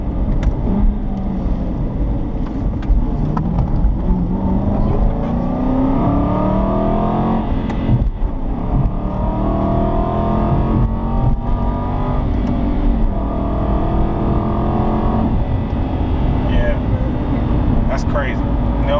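An Aston Martin Vantage engine pulls and revs steadily through a sustained acceleration on a drive, its tone rising in repeated sweeps, loud and close from the cabin, with people talking over it throughout.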